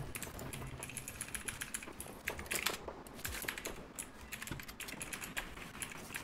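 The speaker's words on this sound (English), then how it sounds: "I can hear my keyboard going click, click, click, click, click, click" A computer keyboard clicks in rapid, irregular bursts during a Fortnite session, keystrokes tapping close and steady throughout with no talking.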